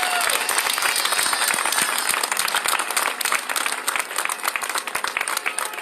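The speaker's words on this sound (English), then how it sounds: "I'd like for everybody here to give a round of applause for the support that their family members are giving to them today." A crowd at an outdoor rally at the Michigan State Capitol claps loudly and continuously, a dense wash of applause that thins slightly toward the end, with a voice faintly audible beneath.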